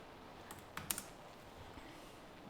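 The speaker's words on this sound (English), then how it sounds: "I'm just typing string name." Computer keyboard typing while entering code for a Liferay 6.2 plugin form, a few quiet, irregular key clicks clustered near the start and one at the end, faint and alone.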